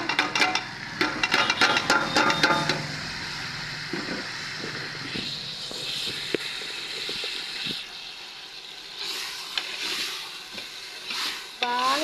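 Chicken biryani masala with chopped coriander and curry leaves frying and being stirred in a pan, a steady close sizzle with scraping stir strokes, louder early on and then settling to a softer crackle.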